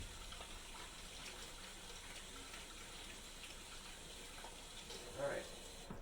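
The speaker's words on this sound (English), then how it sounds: "throw your plate out, wash your hands" A tap runs steadily into a sink as hands are washed after cracking raw eggs in a home kitchen, a faint, even water hiss with a slight surge near the end.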